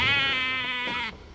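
A ram lamb on a sheep farm gives one long, loud, wavering bleat close by, trailing off abruptly near the end with no other voices.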